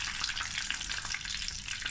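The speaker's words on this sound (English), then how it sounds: "while that's frying away" Steady, dense sizzling of samosas frying in hot oil, with crackling pops throughout and no voices.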